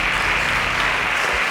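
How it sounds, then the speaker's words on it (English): Studio audience applause on a televised Nigerian youth science quiz competition semi-final as contestants exit, a thick, continuous roar of clapping that stays loud and even throughout the short stretch. "Please a round of applause for them as they exit."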